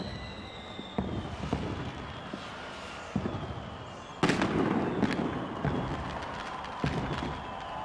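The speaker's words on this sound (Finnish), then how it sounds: "Vielä hetken aikaa jatkuu tuo Hanabi-ryhmän ilotulitus." Fireworks display staged by the Hanabi group over Helsinki at the New Year 2000 celebration, with a steady crackling rumble punctuated by sharp booming bursts, loudest around the middle, fairly distant.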